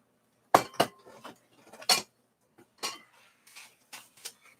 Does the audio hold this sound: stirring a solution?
yes